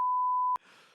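A single sustained censor beep, loud and steady for about half a second, masking a bad word, then cut off abruptly into a soft rustle of background noise.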